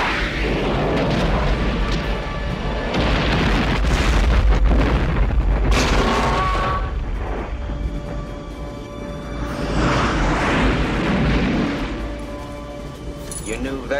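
Bombs dropped from a plane explode in a run of heavy, rumbling booms with crackling bursts, loud and close at first and then rolling on, with speech heard over them.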